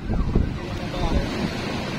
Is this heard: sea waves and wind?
yes